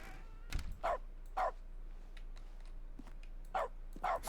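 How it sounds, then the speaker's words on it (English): Short dog-bark sound effects in The Stanley Parable, a handful of brief sharp yaps spaced irregularly across a quiet background, with a faint low hum underneath. "is this like a bark sound effect playing, or do you think that this is Stanley barking?"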